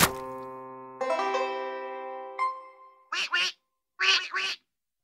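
Cartoonish duck quacks in a children's Dr. Seuss read-along: two quick double-quack bursts near the end, following a ringing musical chime, loud and close with no talk.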